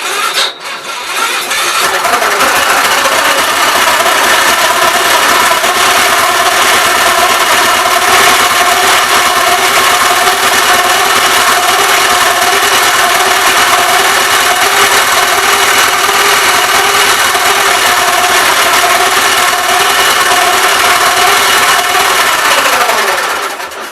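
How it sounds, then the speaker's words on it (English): An engine running after a motor swap in a 1969 432, a loud steady drone with a high, weird whine held throughout for about twenty seconds before it cuts off. "Appears like it'll run. Got a really weird whining noise."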